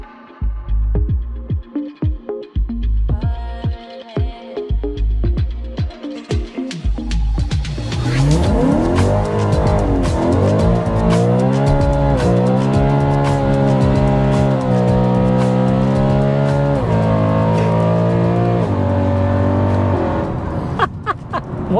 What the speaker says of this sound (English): So let's hop in, get it fired up, go put some more miles on the clock